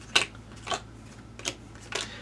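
A discard pile of playing cards gets shuffled in an Undaunted Normandy board game, four short crisp riffling bursts spaced about half a second apart, close and fairly quiet with no talking.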